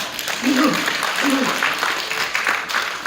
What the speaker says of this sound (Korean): 오늘도 생명의 말씀으로 우리의 삶을 견고하게 하실 목사님을 박수로 초대하겠습니다.